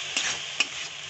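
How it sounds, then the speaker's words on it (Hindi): Masala paste for paneer gravy frying in a pan, a soft bright sizzle with two quick spoon taps, close and brief with no voices. "ये सब मसाला एक साथ अच्छे से फ्राई करेंगे।"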